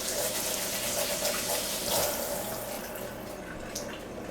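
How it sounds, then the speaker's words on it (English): Hands are washed under a running kitchen tap, a close, steady splash of water that shifts and thins slightly as the hands move through the stream. "We're going to go wash our hands"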